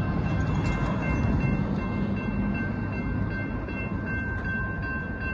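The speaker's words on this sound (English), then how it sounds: "we got a Union Pacific gravel train that's pulling up here" A Union Pacific gravel freight train rumbles past a crossing at Stassney Lane in Austin, Texas at close range, a steady low roar with faint metallic squeals and clanks over it.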